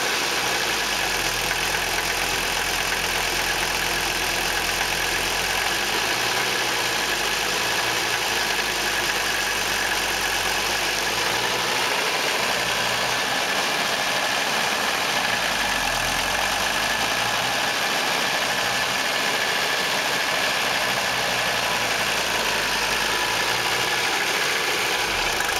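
Mercedes turbodiesel engine idling during a fuel purge, a steady, loud diesel clatter with a low rumble that holds even and unbroken throughout, no voices.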